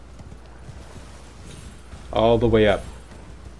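Horse hooves clop along a path in the video game Elden Ring, a soft rhythmic patter running under a narrator who speaks over the play.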